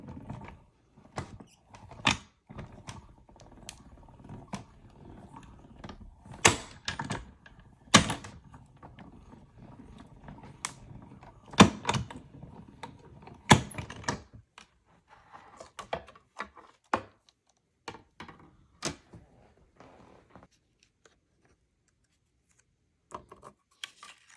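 A Stampin' Up die-cutting machine being cranked with paper through it, giving irregular clicks and clacks of varying loudness that thin out near the end, close by with no talking.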